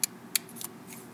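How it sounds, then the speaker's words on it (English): Scissors snip red ribbon while trimming the point of a ribbon star: two crisp, close snips, then fainter clicks of the blades in an otherwise quiet room. "cutting the red twice to make a point"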